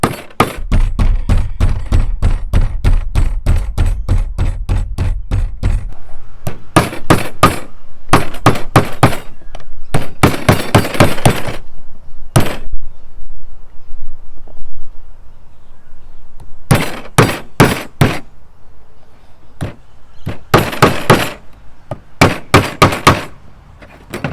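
A hammer strikes steel on a workbench, bending it into a hive beetle trap. A rapid burst of loud, sharp metallic blows is followed by clusters of further strikes separated by pauses.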